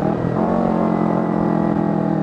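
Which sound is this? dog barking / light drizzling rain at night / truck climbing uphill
truck climbing uphill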